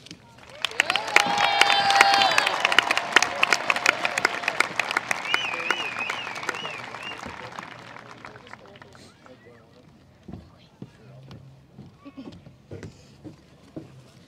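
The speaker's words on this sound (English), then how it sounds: "make sure to cheer loudly for this amazing class of 2023" An audience at a 2023 high school commencement applauds and cheers for the graduating class, with whistles and shouts, loudest in the first seconds before thinning into scattered claps and quieter crowd noise.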